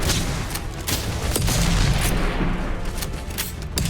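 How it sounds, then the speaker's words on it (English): Doom-style shotgun in a modded Starfield game, firing repeatedly in rapid loud blasts amid a dense, chaotic barrage of combat noise. "Get out your Doom shotgun."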